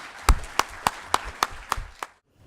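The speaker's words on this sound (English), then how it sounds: "So give him a round of applause for this amazing innovation." Audience clapping for an award winner at a commercialization awards ceremony: about seven sharp, evenly spaced claps over two seconds, fairly close and clear, ending in silence.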